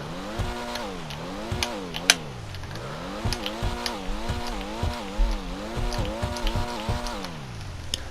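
A Pfister Comet SR sports car engine with an upgraded exhaust in GTA Online revs up and down repeatedly, rising and falling pitch in quick cycles, fairly quiet with occasional clicks.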